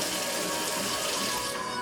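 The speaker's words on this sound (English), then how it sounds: "you turn on the water, only cold water, then you use your glass" Cold water runs from a kitchen faucet fitted with a multi-stage drinking-water filter, a steady, close hiss of flowing water with no pauses.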